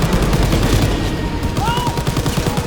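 Rapid, continuous gunfire from Call of Duty WWII during a fight aboard a train, loud and close, with dense repeated shots throughout and a brief voice shouting over the battle noise.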